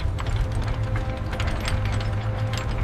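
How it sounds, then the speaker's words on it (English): A continuous mechanical clattering of gears and ratcheting parts, steady and fairly loud, as a heavy valve mechanism grinds open. "And the valve opens."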